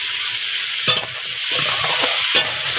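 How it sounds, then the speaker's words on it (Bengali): Crab pieces sauté with ginger, cumin and chili paste, giving a steady hiss from the pan and a few sharp spatula scrapes and taps, close by and without talk. "দেখো একটু কষিয়ে নেবো আদা জিরে মরিচ বাটা একটু দিয়ে দেবো"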